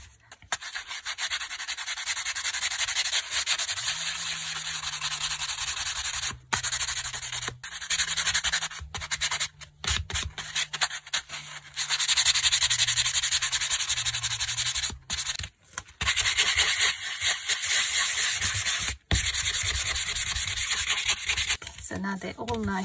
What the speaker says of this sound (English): I shouldn't be talking while I'm sanding